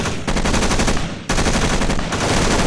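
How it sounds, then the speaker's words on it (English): Machine gun fire during military basic training squad attack drill, loud sustained rapid bursts with a brief break midway, close and continuous over the whole stretch. "The machine gun is coming up."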